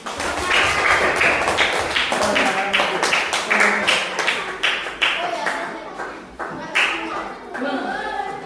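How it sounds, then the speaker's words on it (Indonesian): A class of students claps in a school classroom during group presentations, brisk and slightly uneven, the close hand claps rising and falling with some voices mixed in. "Yuk, beri tepuk tangan."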